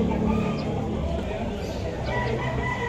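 A young Dom stag gamecock with yellow legs, among roosters at a Malabon poultry market, crows and clucks amid a dense, continuous crowd of birds and background chatter.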